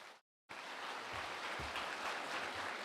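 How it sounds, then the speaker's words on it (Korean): A large church congregation at a Shincheonji gathering in Gwangju claps together after a short moment of silence, producing a steady, rain-like wash of distant applause that stays fairly faint and even. "모든 것 허락해 주신 우리 하나님께 감사의 박수로 마치겠습니다"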